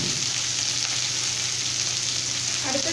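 A ripe medium tomato and fresh curry leaves hit hot oil in a pan for a Tamil cauliflower and pea kurma, giving a loud, steady sizzle and frying crackle from up close, with no talking.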